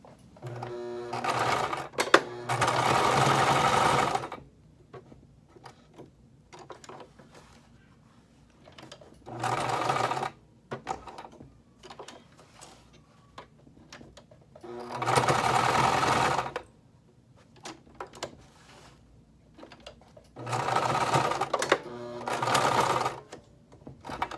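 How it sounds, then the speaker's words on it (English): A sewing machine stitching felt runs in several bursts of rapid stitching, each lasting a few seconds, separated by quiet pauses with small handling clicks. "I'm going to use my sewing machine and sew them on."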